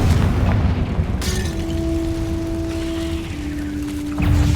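A Confringo blast spell goes off in the Hogwarts Legacy video game: a loud, dense explosive roar that stays heavy for several seconds, with a steady ringing tone running under it.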